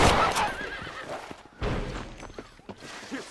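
A horse neighs loudly in a short whinny, followed by a second fainter whinny and some hoof thuds, close by with no talk.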